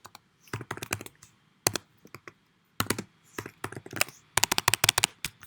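Quick bursts of computer keyboard typing, close and crisp, with clusters of rapid key clicks broken by short pauses and no talking.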